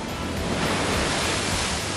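Sea waves breaking steadily on a Tangshan beach by a calm bay, a continuous broadband wash of surf with no pauses, close and fairly loud, no voices.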